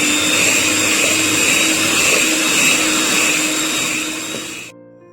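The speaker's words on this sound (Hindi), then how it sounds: "अब जो कैस्टर शुगर बाकी रह गई है ये भी मैं इसमें डाल दूंगी और इसको बीट करेंगे।" Electric hand beater whirring steadily as it creams butter and caster sugar for an orange cake, a loud continuous motor drone that fades and cuts off near the end.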